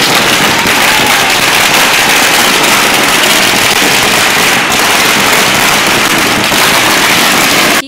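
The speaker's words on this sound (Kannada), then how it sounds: "ಯಾದಗಿರಿ ನಗರದ ಸುಭಾಷ್ ವೃತ್ತದಲ್ಲಿ ಸೇರಿದ ಬಿಜೆಪಿ ಕಾರ್ಯಕರ್ತರು ಪಟಾಕಿ ಹಚ್ಚಿ" At a BJP victory celebration in Subhash Circle, Yadgir, party workers set off firecrackers that crackle in a dense, loud, unbroken barrage lasting several seconds, close to the listener.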